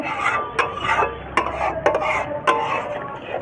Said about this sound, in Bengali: বন্ধুরা, মশলা কষানো প্রায় হয়ে এসছে।